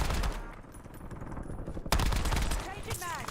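Gunfire from the Warzone video game crackles through a dense, busy game mix, with a sharp loud burst near the middle and voices talking over the action.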